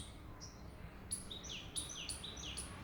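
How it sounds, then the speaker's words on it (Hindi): Several small birds chirp and tweet in short high bursts around a residential bungalow area, overlapping calls that are faint and distant over a soft background hiss, with no talking. "इतने सारे पक्षियों की आवाज़"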